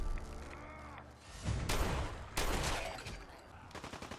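Automated turrets open fire in Fallout 4's Far Harbor at Southwest Harbor, sending out several loud, dense bursts of gunfire that sound like a rapid fusillade, followed by quicker repeated shots near the end.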